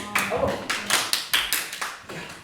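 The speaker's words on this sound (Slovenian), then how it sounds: "No, zaploskajte ji." A small group claps their hands in a room, giving a short, evenly spaced burst of about nine sharp claps, close and clear.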